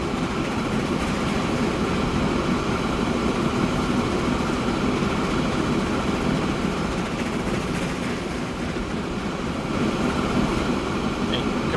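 Passenger train in the video game Transport Fever 2, a steady rumbling roll with a broad hiss and low drone, continuous and even at moderate loudness for the whole stretch.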